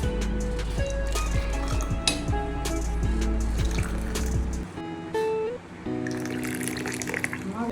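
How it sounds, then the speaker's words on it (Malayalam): Sulaimani black tea pouring into cups in a steady liquid stream, close and moderately loud, with brief pauses and clinks between pours and faint background noise. "സുലൈമാനി ഒഴിക്കാൻ പോകുന്നത്"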